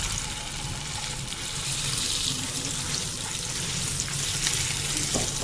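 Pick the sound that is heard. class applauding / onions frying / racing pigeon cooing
onions frying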